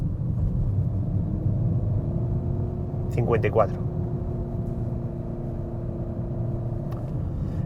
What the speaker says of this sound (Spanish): Basta ya de meternos con el ruido del Honda